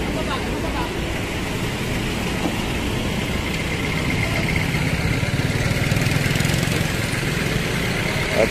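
A motorcycle engine idles steadily on a street, a continuous low rumble that grows slightly louder toward the end, with speech over it.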